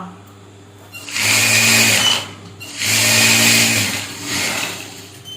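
A sewing machine stitches a folded blouse sleeve piece in three loud bursts of whirring, separated by short pauses of quiet room tone.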